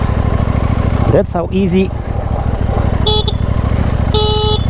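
A KTM Duke 890 GP motorcycle engine rumbles loudly and steadily close by, with a short rising rev, a person speaking briefly over it and a couple of car horn toots in the background.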